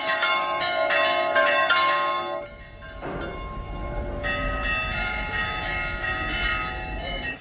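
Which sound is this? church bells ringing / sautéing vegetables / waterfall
church bells ringing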